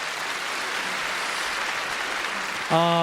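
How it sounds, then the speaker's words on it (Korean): Audience applause at a classical FM concert-hall broadcast marking the Debussy centenary, a dense steady clatter of many hands filling the hall, with a brief tonal musical sound entering at the very end. "박수로 환영해 주시죠"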